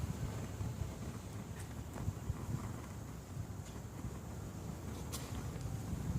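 Wind gusts across an outdoor microphone as a steady, close, low rumble that buffets continuously for several seconds, with a few faint clicks and no voices.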